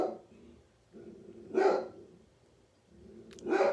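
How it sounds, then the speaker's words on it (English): Two loud dog barks about two seconds apart, close by, with quieter low sounds in between. "That's my dog Toshi barking."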